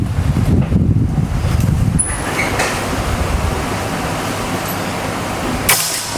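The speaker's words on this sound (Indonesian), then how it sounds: "angin di outdoor cukup lumayan kencang" Strong outdoor wind buffets the microphone at an air rifle range, a steady heavy roar and rustle that runs unbroken, with a brief sharp crackle near the end.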